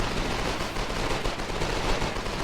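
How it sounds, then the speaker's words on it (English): Submachine gun fire in a Foxhole competitive league match forms a dense, continuous rattle of rapid shots that fills the whole stretch without pause. "That's a lot of SMG."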